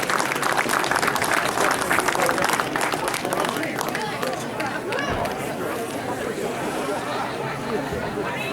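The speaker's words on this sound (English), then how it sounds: "they deserve a nice round of applause for being great representation of Wiscasset Speedway." Audience at a speedway awards banquet applauds the drivers of the month, a dense, steady wash of clapping mixed with crowd chatter and cheers that fades slightly toward the end.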